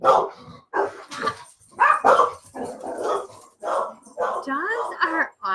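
A dog barks, yips and whimpers in short bursts mixed with excited human talk, the animal close by in a home setting.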